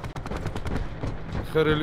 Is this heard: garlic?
no